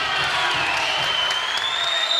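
A crowd at a women's volleyball match between Purdue and Louisville cheers and claps in a steady, loud roar that holds from start to finish, with a high whistle-like tone rising through it.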